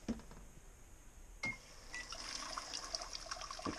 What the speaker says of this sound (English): The water that's squirting out of there is kind of cold